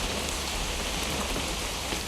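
Steady rain pours in the video game What Remains of Edith Finch, a dense, even hiss of drops on surfaces that fills the whole moment without pauses or voices.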